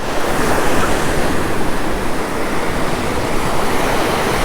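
Surf waves wash onto a beach in a steady, loud roar of breaking water and spray, continuous throughout with wind rushing across the microphone and no voices.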